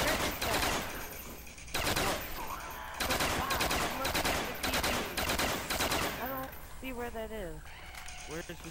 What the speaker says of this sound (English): Just keep running him, I'm shooting him, Tony.